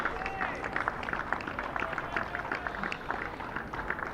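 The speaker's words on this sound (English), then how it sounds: "It's a handsome round of applause for." Sustained applause from a distant crowd at a Sussex vs Warwickshire county cricket match, a dense patter of clapping that holds steady throughout.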